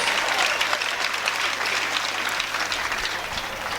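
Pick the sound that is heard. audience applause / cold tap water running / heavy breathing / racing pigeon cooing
audience applause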